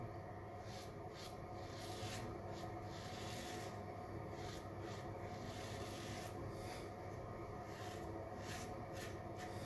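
Resharpened straight razor on a third shaving pass, giving soft, close, rhythmic scraping strokes over skin in a steady series, quiet and without talking.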